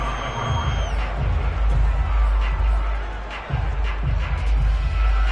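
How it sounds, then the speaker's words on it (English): A stadium crowd in a Madden football video game roars steadily ahead of a big third down, a dense, loud wash of cheering that rises and dips slightly throughout. "The crowd getting into it as we come up on a big 3rd down"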